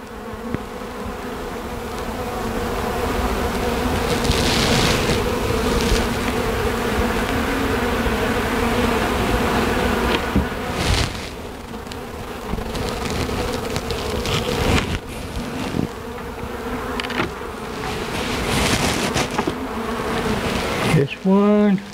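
Honey bees buzz in a dense, steady drone around an open hive box holding honey, pollen and nectar, close and continuous throughout, with a brief human voice near the end.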